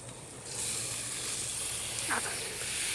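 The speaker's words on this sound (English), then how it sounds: "So now it is time to flip them over." New York strip steaks hiss and sizzle in a pan just after being flipped, a steady bright sizzle rising after a quieter start and running on alone.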